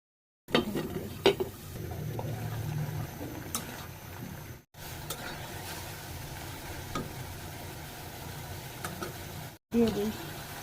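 Tomatoes, potato and cauliflower stems dropped into a pan of oil after frying rohu fish, followed by steady stirring and soft sizzling with scraping clinks of a spatula against the pan, interrupted by two brief gaps.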